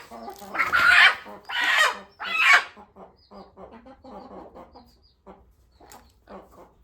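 Free-range country hens on a farm give loud squawking clucks in three close bursts, then quieter scattered clucking continues with faint voices in the background.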